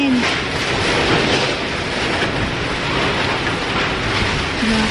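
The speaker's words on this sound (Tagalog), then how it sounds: "Grabe, sakit ang hangin." Strong typhoon wind roars in a steady, dense, unbroken rush at close range during Typhoon Odette in Cebu.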